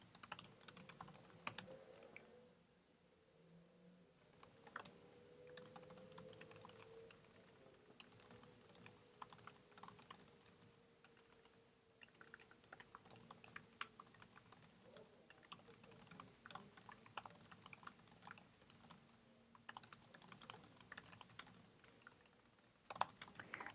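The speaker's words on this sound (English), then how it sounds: "I cannot type." Steady typing on a computer keyboard, a continuous run of quick soft key clicks up close, broken by a short pause near the start, with no one talking.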